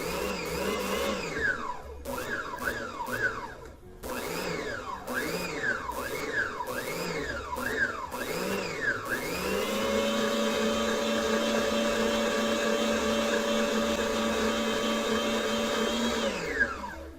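An electric stand mixer with an extension collar runs on batter ingredients, starting in short pulsing bursts and then settling into a continuous steady motor hum with a bright whine.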